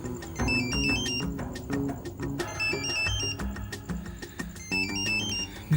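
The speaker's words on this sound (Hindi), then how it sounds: "तुम्हारे बाप का फोन है सनी।" A melodic electronic ringtone plays a repeating pattern of bright tones over a low background, continuing steadily for several seconds.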